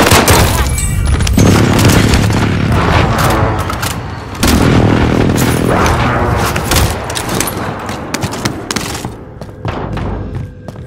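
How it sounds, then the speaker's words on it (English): Heavy booming explosions from a precision airstrike in Warzone on Rebirth Island, a loud, dense barrage of thuds and blasts that swells and falls in waves over several seconds. "Be advised, friendly precision airstrike."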